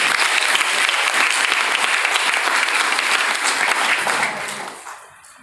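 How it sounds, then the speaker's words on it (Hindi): A large crowd at a testimony gathering claps loudly and continuously for several seconds before the ovation thins and fades away at the end. "आप सबके लिए दोस्तों एक जबरदस्त ताली"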